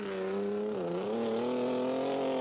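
A rally car at the 1987 Shell Oils Rallysprint Trophy, driven by Blomqvist, accelerating hard through a dip, its engine note sagging then climbing in a loud, continuous close drone.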